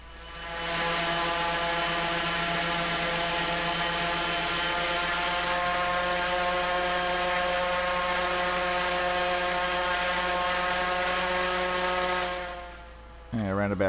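A propeller engine on the Raptor prototype aircraft runs during a static thrust test, a loud steady droning buzz held for about twelve seconds with harmonic whine, then spooling down near the end.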